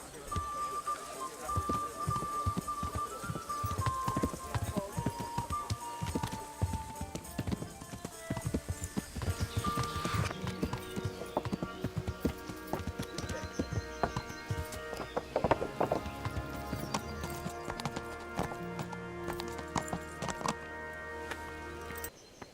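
Horse hooves clip-clop steadily in Kingdom Come: Deliverance, a regular rhythm of clear hoof strikes under game music, with a voice speaking partway through.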